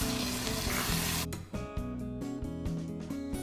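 Wine added to a pan of browned ragù meat sizzles and cooks off with a loud, steady hiss; a sharp surge about a second in gives way to a busier crackle, and no one speaks.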